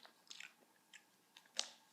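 Crunchy cauliflower is chewed close to the mic, giving a few moist, crackling bites at an uneven pace, quiet overall with one sharper crunch near the end.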